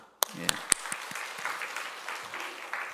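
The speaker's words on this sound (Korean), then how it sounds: "격려의 박수" Encouraging applause from a church congregation at a Korean Sunday service, a few sharp claps opening into a soft, fairly distant patter of clapping that carries on throughout.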